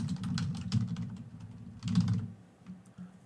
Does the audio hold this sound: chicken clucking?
no